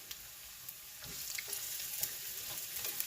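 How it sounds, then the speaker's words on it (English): Garlic fries in a pan for a vegan pozole rojo, giving a soft, steady sizzle and crackle with occasional small pops, fairly quiet and without talk. "So we're gonna add the garlic first. It matters. And we're going to fry them till they are a nice brown."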